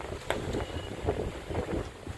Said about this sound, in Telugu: ఇంకా గాలి ఏమాత్రం తగ్గట్లేదు